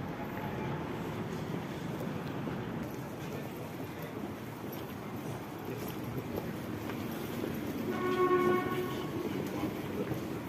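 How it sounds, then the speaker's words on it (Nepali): A train rumbles steadily past on a railway near a London university station, a loud continuous rolling drone, with a brief horn-like tone sounding near the end. "सब ट्रेनहरु आउँदैछन्।"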